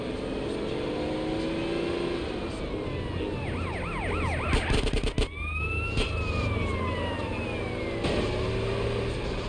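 An ambulance siren in the video game Grand Theft Auto San Andreas wails in rising and falling sweeps over a rumbling, revving car engine, with a brief burst of crashing or gunfire midway through.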